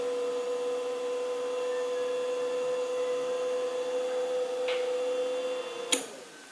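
A 12-volt DC fan in a smart home prototype runs steadily with a constant tonal whir and faint hum, close by. A sharp click sounds near the end.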